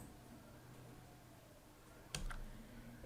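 A single crisp computer mouse click while navigating YouTube Studio, with a faint second tick right after, set against a very quiet room hum.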